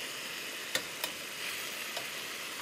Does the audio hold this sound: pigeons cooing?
no